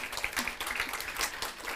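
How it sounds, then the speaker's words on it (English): An audience at a cybersecurity event claps in a brief, dense patter of applause. "Applause."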